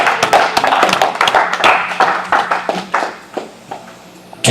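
A church congregation claps for the Lord, loud close-up hand claps that start dense and irregular and then thin out into scattered individual claps before fading.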